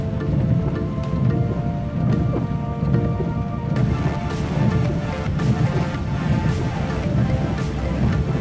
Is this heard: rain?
yes